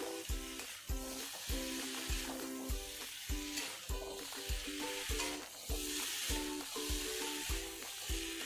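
Fried cauliflower stirred into masala in a pan gives a soft sizzle under regular, rhythmic scrapes and knocks of a spatula against the metal, about one stroke per second.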